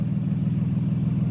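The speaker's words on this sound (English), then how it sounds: "There's this school bus right here." School bus engine idling nearby, a steady low rumble that holds evenly throughout.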